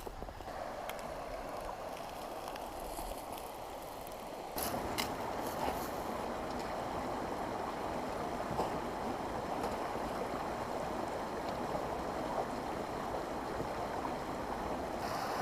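A river flows steadily beside a wooded backpacking trail in a Virginia wilderness, a soft continuous wash of water with a slight rise in level partway through, and no voices.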